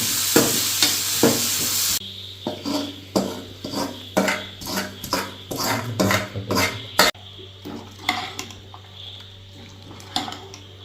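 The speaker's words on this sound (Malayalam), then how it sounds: "സവോള ചെറുതായിട്ട് അരിഞ്ഞിട്ട് മൂപ്പിച്ച് അതിൽ ചേർക്കുക" Finely chopped onions fry in a pan for a Marayoor-style dried tapioca dish, with a steady sizzle under repeated stirring scrapes and clinks of a utensil against the pan throughout, close and fairly loud.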